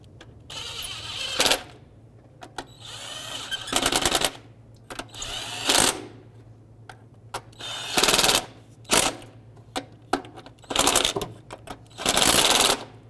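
Ratcheting on the knock sensor bolts of a 2002-06 Toyota Camry, bursts of rapid clicking that come in repeated short runs of about a second each, separated by pauses, over a low steady hum.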